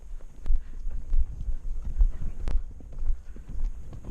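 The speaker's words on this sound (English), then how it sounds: "We can probably do" A horse canters in a yard, its hooves thudding in a quick repeating rhythm on the ground, close and fairly soft, with occasional breath and tack sounds.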